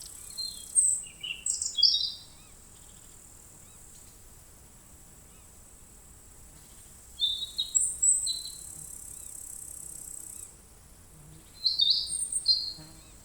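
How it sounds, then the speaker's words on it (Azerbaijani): Birds chirping and whistling in the forest of Hirkan National Park, Azerbaijan: three short bursts of high, bright calls with quiet stretches between them, fairly distant. "qəfildən quşların cikkiltisi, fit səsləri və hətta əsl nəğmələrlə canlanır"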